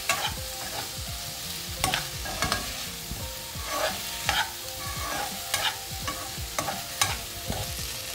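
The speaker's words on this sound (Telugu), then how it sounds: "ఇప్పుడు ఆలుగడ్డలు వేసి ఈ ఉల్లిపాయలతో ఆలుగడ్డల్ని వేయిద్దాం" Potatoes frying with onions in a pan for an Andhra veg biryani, with repeated stirring scrapes over a steady sizzle, close and fairly loud, no voices.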